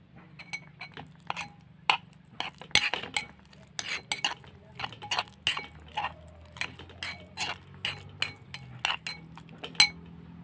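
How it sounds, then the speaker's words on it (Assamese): A spoon stirs dried fish pitika with mustard oil and lemon juice in a bowl, sounding as a string of sharp, close clinks and scrapes in an uneven rhythm over a low background hum, with no voices. "এতিয়া ইয়াতে দি দিম অলপমান মিঠাতেল, অলপমান কাজি নেমুৰ ৰস আৰু এতিয়া ভালদৰে মিহলাই ল'ম।"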